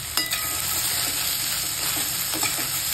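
Okra (bhindi) stir-frying in an open pan over a high flame, a steady close sizzle with occasional scraping stir strokes throughout, no voices.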